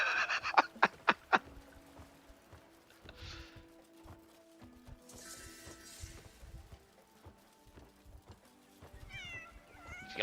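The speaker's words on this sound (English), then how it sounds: "Oh, it's been decided. I'm taking this cat home." Cat meows from a video game cat in Crimson Desert: several short, loud meows in quick succession near the start, then softer calls and chirps later over faint game background sounds.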